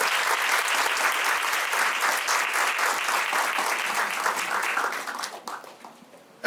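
Audience applause opening a large-audience program, steady, dense clapping from many hands for about five seconds, then tapering off into a few scattered claps.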